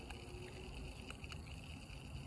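Quiet, continuous watery churn and trickle from a V3 venturi bubbler aerating hydroponic water, pump-driven, with a few faint clicks and no talk over it.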